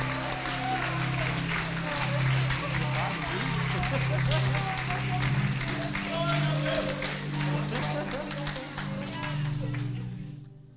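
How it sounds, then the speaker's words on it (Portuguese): A church congregation claps during a Sunday service, dense steady applause filling the room for several seconds alongside a sustained musical drone, then fading out at the end. "Dá uma salva de palmas mais aí."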